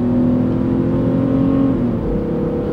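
A car under full load pulls away hard, its engine note climbing steadily before a gear shift briefly drops the pitch, then the drone carries on loud and close from inside the cabin.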